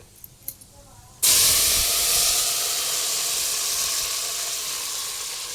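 Masala paste for biryani hitting hot oil in a pan, a sudden loud sizzle that bursts in and keeps hissing steadily, fading only slightly over several seconds.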